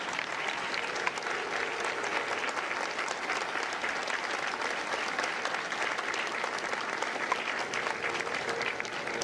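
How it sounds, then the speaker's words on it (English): A graduation audience at a Marine Corps recruit depot applauds Marine veterans with dense, sustained clapping that stays even throughout, a broad crowd sound filling the space with no speech on top. "A round of applause for their dedicated service to Corps and country."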